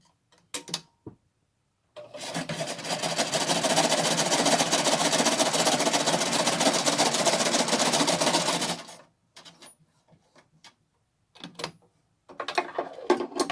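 A sewing machine runs in one sustained burst of about seven seconds, stitching a quarter-inch seam on a cotton face mask, with brief clicks and handling noises before and after.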